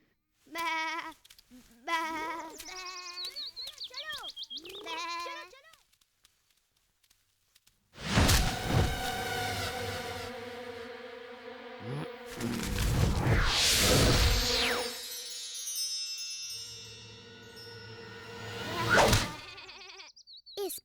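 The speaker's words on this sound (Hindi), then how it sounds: "इस बार मैं सुदामा की नाक के नीचे से ये सारी भेड़ें चुरा ले जाऊंगा।" Sheep bleating in an animated children's story, several wavering bleats in quick succession near the start, then louder bleats and a whooshing sweep through the rest, with no talk.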